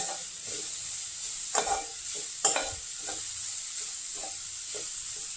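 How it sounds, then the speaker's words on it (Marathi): Grated carrots sauté in a pan for carrot kheer, giving a steady close sizzle with a spoon scraping and stirring through it in irregular strokes, a few louder scrapes standing out. "आता हे जे गाजर आपण परतवून घेतले"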